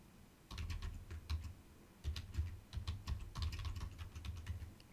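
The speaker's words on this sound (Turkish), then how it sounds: "Kendim yazıyorum şifreyi." Fast bursts of keystrokes as a password is typed on a computer keyboard, arriving in clustered runs with brief pauses between, close and fairly quiet over a low steady hum.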